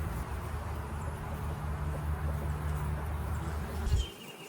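Honey bees swarm around an open hive with a steady, low droning hum of many wings. The buzzing is close and constant, then cuts off at the end.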